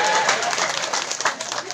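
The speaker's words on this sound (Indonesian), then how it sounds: "tepuk tangan" A crowd gives steady applause during a humorous Sundanese religious sermon, dense clapping and cheering that holds loud and even throughout.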